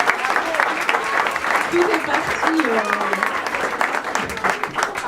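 An indoor audience applauds at a launch event for a local citizen currency, a steady dense clapping throughout, with a voice speaking briefly over it.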